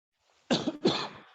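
Two quick, close coughs in succession, harsh and breathy, following a brief quiet moment, from a man recently ill.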